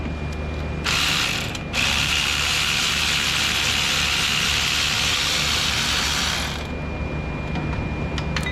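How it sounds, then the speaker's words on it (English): Steady, loud ratcheting from a ratchet wrench loosening idler pulley bolts on a Jeep Wrangler during drive belt replacement, a continuous run of clicks close by for several seconds with no talk. "Now, come over here and remove our idler pulley."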